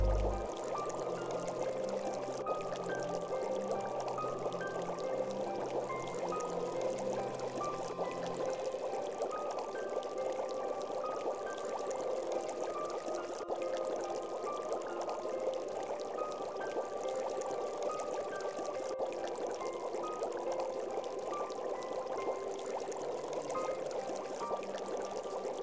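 Water pours steadily from a tap or container during washing in a village with a failing water supply, a continuous splashing stream lasting throughout at an even, fairly close level, with no voices.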